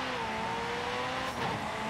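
A car in Forza Horizon 5 slides into a drift, its engine droning steadily with a thin tire squeal rising near the end.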